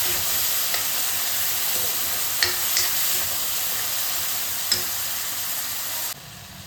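Spices and tomatoes fry in a pan with a steady close hiss and sizzle, broken by a few soft clinks and scrapes of stirring, the sizzle dropping away abruptly near the end.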